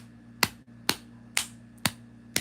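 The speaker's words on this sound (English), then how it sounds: "I'm gonna just clap like that." Five sharp hand claps sound close and loud at an even, roughly half-second rhythm, each a crisp snap with a short decay and nothing else between.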